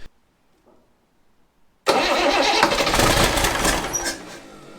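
Mk2 Stalwart military amphibious truck engine cranking into life after flame preheating: near silence, then a sudden loud start that settles into a rough, rumbling run close by.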